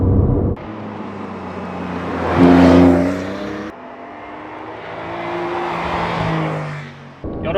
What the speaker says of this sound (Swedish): Hur är det då att köra nya Carrera S?